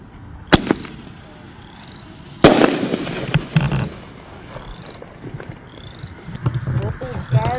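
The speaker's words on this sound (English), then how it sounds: "Purple stars with silver glitter." Firework shells bursting with purple stars and silver glitter at a pro-line shell show, with two sharp nearby reports followed by crackling, popping, and scattered bangs, while a voice talks over the display.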